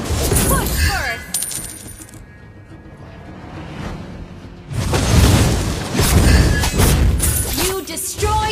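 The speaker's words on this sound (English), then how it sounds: "You destroyed a turret!" Turret destroyed in a MOBA game, a loud booming crumble and shattering burst with clinking game effects, coming after a quieter stretch and a brief game voice.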